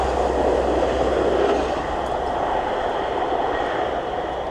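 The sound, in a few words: passing passenger train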